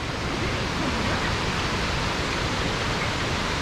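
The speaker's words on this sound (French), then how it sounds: "Il y a des petites cascades là déjà." Small waterfalls along a stream in Bosnia produce a steady, dense rush of splashing water, close and unbroken, with no voices over it.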